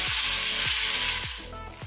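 Ivy gourd (tindora) frying in a pan over a low-to-medium flame for a cashew stir-fry, a loud continuous hiss of sizzling oil with a few repeated stirring strokes, close and steady.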